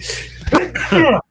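A sharp sneeze bursts out mid-conversation, a quick inhale then a loud explosive release, close to the microphone in an indoor podcast setting with speech around it.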